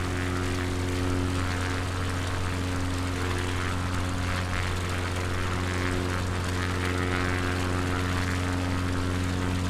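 Steady, loud drone of a propeller aircraft engine in Microsoft Flight Simulator 2020 on a Patagonia bush flight, an even humming tone holding constant throughout with no talk.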